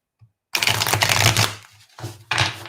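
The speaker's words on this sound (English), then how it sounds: "I'm just going to give the cards a really good shuffle." Tarot cards are shuffled in brisk riffling bursts, close and crisp, with a short pause between bursts and no talk.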